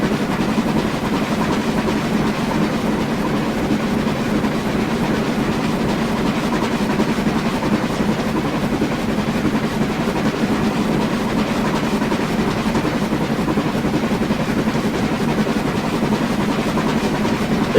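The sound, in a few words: BR Standard Class 2MT steam locomotive running, from a train simulator video game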